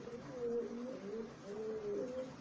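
A Kaldom baby pigeon gives soft, repeated low cooing, a continuous gentle warble at close range, fairly quiet with faint room noise beneath.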